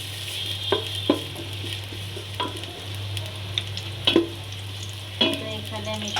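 Chopped onion frying in oil in a cooking pot for hilsa khichuri, a steady sizzle with stirring scrapes and clatters at intervals over a constant low hum.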